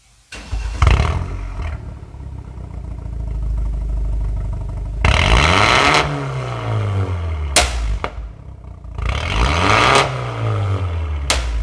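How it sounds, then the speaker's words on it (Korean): A BMW 320i with a popcorn-tuned exhaust is revved hard several times, each burst roaring up and then falling away, with crackling exhaust pops between revs. "여러분, 배기음 한번 들어보겠습니다"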